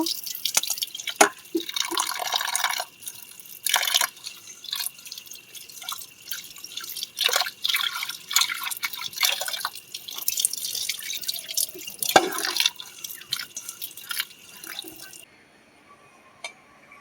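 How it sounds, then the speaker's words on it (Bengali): Prawns rinsed under a running tap, with water splashing and dripping in irregular bursts close by, a few brief pauses between rinses before it stops. "চিংড়ি মাছগুলো ভালো করে ধুয়ে নেব।"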